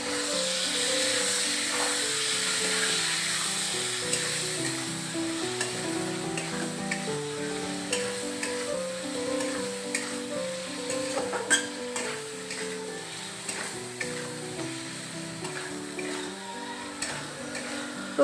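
Onion, tomato and spices with turmeric and salt sizzle steadily in a pan while being stir-fried, with close crackling and occasional utensil scrapes over a soft musical background.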